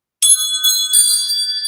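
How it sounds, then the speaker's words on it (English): A wind chime rings in bright, sustained metallic tones, struck once and then again a couple of times, close and loud, with no talking. "let's call in spirit with a little bit of wind chime time."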